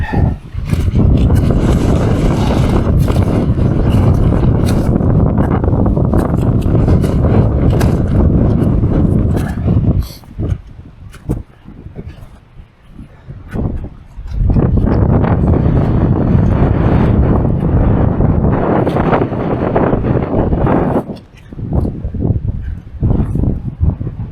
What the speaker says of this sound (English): Predicted wind speeds today, even we're up to 35 miles an hour at the summit